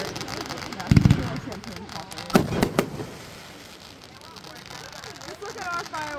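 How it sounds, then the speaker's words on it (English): New Year's fireworks bursting outdoors in a few loud, crackling volleys, with quieter pops and background chatter between them and people talking nearby. "More fireworks."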